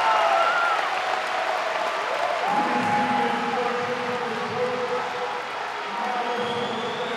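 Crowd at a strongman stone medley event in an expo center, with continuous broad cheering and applause filling the whole stretch, while an announcer's voice and tonal arena sounds sit faintly underneath.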